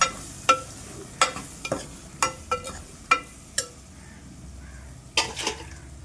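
Vegetables with red chili powder and salt sautéing in a pan with a steady low sizzle, punctuated by a series of sharp scraping clicks from a spoon stirring against the pan.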